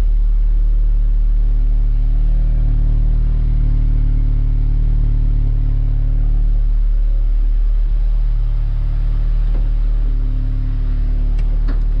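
An Audi S3 8V, still fully stock, runs at a high idle right after a cold start, giving a loud, steady, close-up engine drone with a deep low rumble and no talking.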